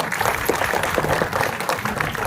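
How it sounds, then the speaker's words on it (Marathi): An audience at a film screening in a rural theatre breaks into steady, dense applause for the theatre owners, a continuous wash of many hands clapping without pause. "याच्यासाठी थिएटर मालकांसाठी टाळ्या वाजवा."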